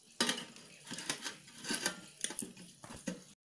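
A metal lid set on a pot of chicken biryani in a home kitchen, making a few close, light clanks and scrapes of metal on metal.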